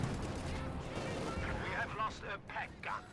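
Gunfire and explosions from the Company of Heroes 2 strategy game: dense rumbling battle noise with bursts of shots, heard under a commentator talking continuously.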